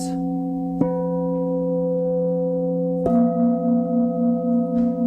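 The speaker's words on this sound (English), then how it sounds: "as I sound the gongs for the next few moments" Meditation gongs ring out three times, each strike followed by a long sustained, shimmering tone that slowly fades and overlaps the next, with no voices.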